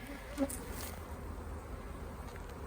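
Honey bees buzz faintly around a beehive while a beekeeper works the colony, a thin, steady, low-level hum with a brief bump near the start.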